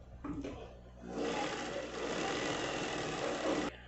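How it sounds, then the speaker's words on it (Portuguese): A sewing machine runs steadily for about two and a half seconds, stitching baby car seat canopy fabric pieces joined right side to right side, after a few soft handling noises. "E vou costurar ela aqui."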